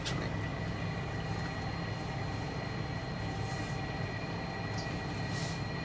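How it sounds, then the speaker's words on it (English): A truck engine running, heard from inside the cab as a steady, unbroken droning rumble with broad noise throughout and no talking. "I'm in the truck and the engine is running actually."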